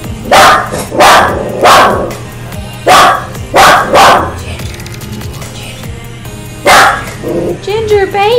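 Dogs bark in loud, close repeated bursts, with a few yips and whimpers between barks, and people talk over them indoors.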